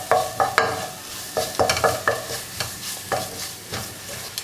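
Ground coconut paste being sautéed in oil over a low flame, with repeated stirring scrapes and light sizzle coming in short, uneven bursts close by, no talking.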